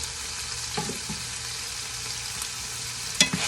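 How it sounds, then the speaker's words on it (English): A pan of sauce for a freezer meal simmers with a steady broadband sizzle and bubbling. There are a couple of faint utensil knocks, the last one louder near the end. The sound is close and constant, with no voices. "now we're gonna let this sauce simmer"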